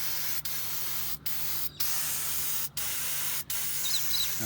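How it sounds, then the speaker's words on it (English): A continuous hiss of aerosol degreaser sprayed on a 58-year-old Victa lawn mower engine in several bursts, with brief pauses between sprays, close and fairly steady. "Alright, time for some degreaser."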